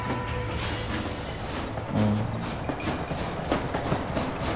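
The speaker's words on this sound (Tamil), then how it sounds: "கிளம்பிட்டோங்க, ஹைஜாக் பண்ணிட்டோம் ட்ரெயினை." A hijacked steam train pulling away in Red Dead Redemption, with a steady rhythmic clickety-clack of wheels on rails and a low rumbling hum, moderately loud and continuous with no talking.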